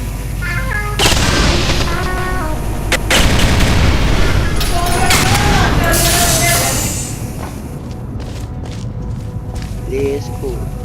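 Turret gunfire in the video game Portal 2, loud bursts of rapid shots and booms over about seven seconds, then quieter scattered sounds, with a voice speaking over parts of it.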